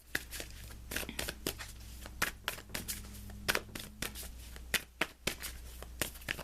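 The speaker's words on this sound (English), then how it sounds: "let's pull you an additional guidance card" Tarot cards being shuffled by hand, a quiet, close series of crisp riffling bursts and soft slaps at an uneven rhythm.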